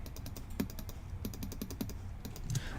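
Computer keyboard and mouse clicks at a desk while animating in Piskel, a steady run of sharp, close taps and clicks in small clusters with brief pauses, no voices.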